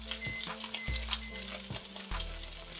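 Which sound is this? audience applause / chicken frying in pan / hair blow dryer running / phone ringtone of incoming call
chicken frying in pan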